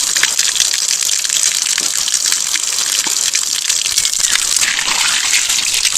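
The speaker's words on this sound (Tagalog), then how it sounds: "Ginisa amin po sagana sa bukal, libreng tubig." Water gushes steadily from a natural spring, a loud, continuous rushing and splashing close by with no pauses and no voices over it.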